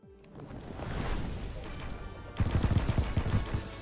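Earth sword weapon effects from Terraria with the Calamity mod: a dense, rumbling wash of game sound builds up, then breaks into rapid, loud bursts of crackling, explosive impacts in a continuous barrage like fireworks, with no voices.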